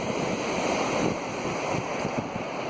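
Waves wash onto the beach at Hopton-on-Sea, Norfolk, a constant broad roar of surf mixed with wind buffeting the microphone.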